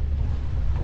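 A small boat rides a choppy sea, white caps kicking up in a 12 to 15 knot wind running against the tide. Steady wind buffets the microphone with a deep, rumbling roar, and the low wash of water stays constant throughout.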